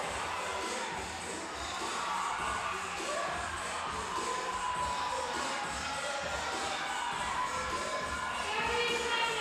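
Spectators at a fitness competition cheering an athlete on to finish, a busy mix of crowd shouts and cheers with some chatter and shuffling in a large indoor space.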